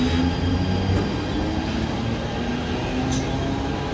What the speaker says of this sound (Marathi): प्लॅटफॉर्म क्रमांक 6 वर आलेली लोकल